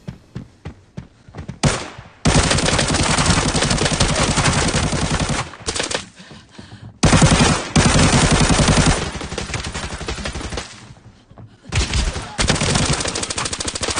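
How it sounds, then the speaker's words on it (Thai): A shootout in the video game Arena Breakout brings long, loud bursts of rapid automatic gunfire, broken by a few brief pauses and single shots, with no voices over it. "โชคดีที่มันยิงผมไม่โดนและโชคร้ายที่ผมยิงมันไม่โดนเหมือนกัน"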